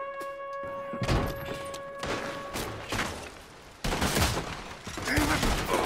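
Rapid bursts of gunfire in Red Dead Redemption 2, loud and close, with several volleys of overlapping shots across an in-game shootout escape.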